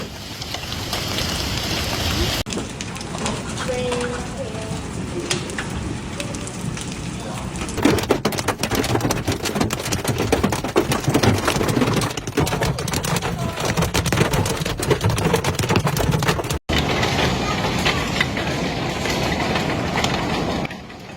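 A Nebraska hailstorm with rain and strong winds roars in a loud, continuous wash of pelting and drumming that swells and dips for about twenty seconds, with faint voices now and then.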